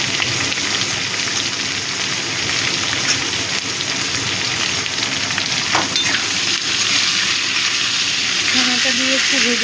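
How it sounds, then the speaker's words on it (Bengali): Chhana (paneer) and potatoes frying in a pan, a loud, steady hiss and sizzle close up with occasional stirring scrapes, continuous throughout. "ছানাটা দিয়ে একটু ভেজে নেব।"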